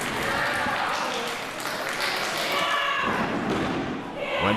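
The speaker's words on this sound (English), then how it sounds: "Cherry Bomb holds on with the headlock, takes Del Rey over." Professional women's wrestlers hit the mat in a wrestling match as a headlock takes one of them over, giving dull thumps and thuds against a crowd murmur, while a commentator talks throughout.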